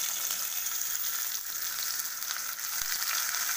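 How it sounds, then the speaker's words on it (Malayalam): Onions frying in leftover oil for prawn biryani give a steady, loud, hissing sizzle throughout, with no voices and only slight dips in intensity. "ഇനി നമ്മൾക്ക് ബാക്കിയുള്ള എണ്ണയിൽ ഉള്ളി ഇട്ട് കൊടുക്കാം."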